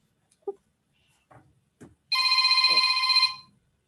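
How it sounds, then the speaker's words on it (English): A telephone rings in an electronic burst of about a second, close and loud, set off in a quiet room during a religious talk session, with a few faint knocks and shuffles around it. "This phone is supposed to be silent."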